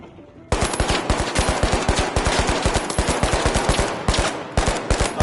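An AK rifle in The Finals fires loud, rapid bursts of sharp shots, evenly paced and close, with short pauses between the runs.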